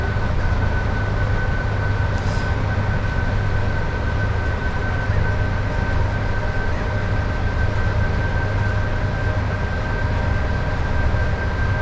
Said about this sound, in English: That's what was good about these trains. You could hear them.